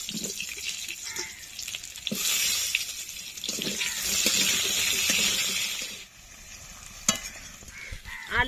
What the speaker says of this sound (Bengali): মাছ ভাজা তেলের ভেতরেই কিন্তু আমি আলুগুলো দিয়ে দেব। আলুগুলো একটু ভেজে নেব।